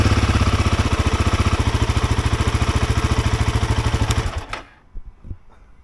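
A motorcycle engine runs close and loud with a steady rapid thumping pulse for about four seconds, then cuts off abruptly, leaving a few faint clicks and clatters.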